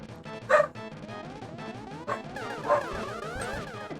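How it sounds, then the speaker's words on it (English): A pet dog barks indoors in three or four sharp, agitated bursts spaced unevenly over a few seconds, loud and close, over a steady bed of electronic video game music. "I wish my dog would calm down a little bit."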